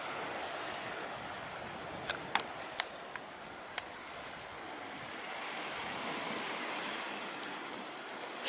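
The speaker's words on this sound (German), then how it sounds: "Man hört jetzt so das leichte Rauschen vom Meer" Gentle sea waves rush softly and steadily, heard from a coastal walking path by the Atlantic Road in Norway. A few faint clicks come through early on, and the surf swells slightly toward the end.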